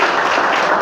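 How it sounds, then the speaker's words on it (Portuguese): A church congregation claps in a brief, dense burst of applause during worship, steady and fairly loud with no break. "Quem crê pode aplaudir, glorificar"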